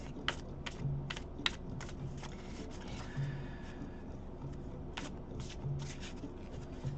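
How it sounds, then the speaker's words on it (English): Odd-shaped tarot cards being shuffled by hand in quick riffling bursts, crisp and close, with soft low rustling between the flurries and no talking. "Let's give it a little bit more of a shuffle. This is an odd shaped deck."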